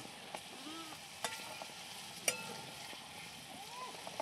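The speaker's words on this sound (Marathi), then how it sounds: "आता लगेच त्याच्यात मी वाटाणा भाजून तळून घेणार आहे" Green peas fry in hot oil for paneer bhaji, a faint, steady sizzle with a few sharp pops and clinks and some soft chirping sounds in the background.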